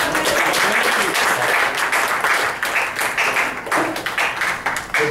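A church congregation applauds with dense, sustained clapping from many hands, loud and fairly even, tapering slightly toward the end.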